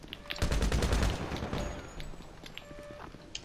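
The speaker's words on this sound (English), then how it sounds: "Yep, minigun." A minigun firing in the Payday 2 video game, heard as a loud, rapid burst of shots that fades into scattered quieter gunfire.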